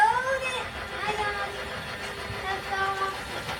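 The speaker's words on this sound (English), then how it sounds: "There goes their Christmas train." A toy Christmas train runs with a whistle-like tonal sound effect and a steady mechanical rumble underneath, while people talk nearby.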